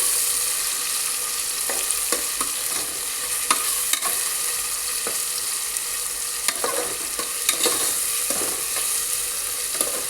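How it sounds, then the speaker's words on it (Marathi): Onions fry steadily in a pan for an egg biryani, with a constant sizzle and scattered scraping clicks from stirring, close and fairly loud, with no talk. "आपण यात आता कांदे टाकून घेऊ।"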